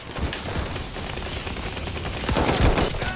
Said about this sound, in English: I'm just trying to use a pistol, man.